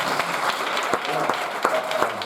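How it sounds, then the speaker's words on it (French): Church congregation applauding at a Mother's Day service, steady mid-level clapping from a crowd throughout with a few sharper individual claps standing out. "On va l'applaudir."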